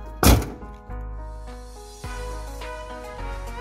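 A Mazda Miata's driver's door shuts with one loud, close thunk, and a loose rattle from worn window bushings follows, fading into a metallic ringing hum.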